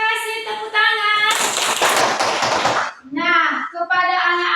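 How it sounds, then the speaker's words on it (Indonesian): A class of children claps hands together in a school classroom, a dense burst of clapping lasting about two seconds, with children's chanting voices before and after it. "Tepuk tangan."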